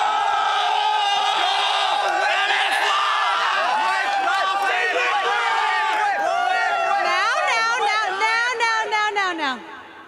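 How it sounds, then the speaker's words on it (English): Loud, dense crowd of esports fans at The International 2017 Dota 2 championship, cheering, whooping and shouting for Team Liquid and LGD.Forever Young. The roar is sustained and swelling, with many voices close by, before it drops off at the end. "there are a ton of fans out in the crowd, both for LFY and Team Liquid"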